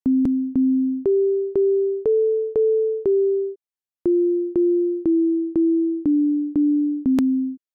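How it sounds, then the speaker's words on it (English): Sonic Pi synth beeps play Twinkle Twinkle Little Star at double tempo: a clean electronic sine-like melody of evenly spaced notes, seven in the first phrase, a short gap, then seven more, loud and alone. "If I run the program now, you'll hear that the tempo has got twice as fast and it'll sound a bit more like Twinkle Twinkle Little Star"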